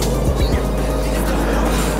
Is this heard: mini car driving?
yes